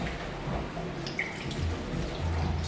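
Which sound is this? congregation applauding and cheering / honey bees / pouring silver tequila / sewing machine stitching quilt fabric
pouring silver tequila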